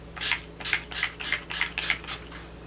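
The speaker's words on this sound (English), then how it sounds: "One more spray." Makeup setting spray bottle being pumped in about seven quick, evenly spaced bursts, each a short close hiss, with no talking.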